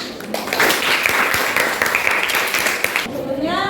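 Students in a classroom applaud after presenting their group discussion results. The clapping is dense, steady and close, lasts a few seconds, then gives way to voices near the end.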